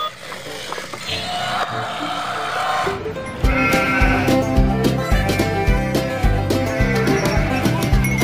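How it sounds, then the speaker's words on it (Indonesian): Goat bleating in a toy play scene, a wavering cry heard over busy background music, with a voice talking near the start. "Ada kambing."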